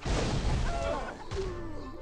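A chicken blown up in the video game What The Hen!: a loud, close, full-bodied explosive crash that rumbles and fades over two seconds, with faint whooshing sweeps trailing behind.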